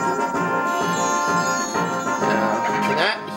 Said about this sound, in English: He's gonna use his blue bell.